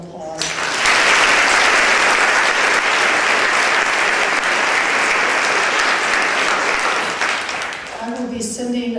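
A large audience at a university induction ceremony breaks into sustained, loud applause that fills the room for several seconds before tapering off as a voice returns at the end.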